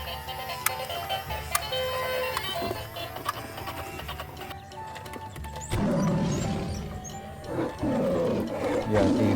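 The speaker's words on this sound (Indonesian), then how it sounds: "Yang ini singa teman-teman." Electronic lion roar from a toy animal truck, a steady loud synthetic growl that swells and grows rougher partway through, with clattering noises mixed in.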